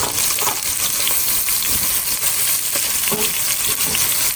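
Minced garlic and a large shallot frying in a pan for a red wine reduction, a dense, continuous hiss of sizzling oil heard up close with no voices.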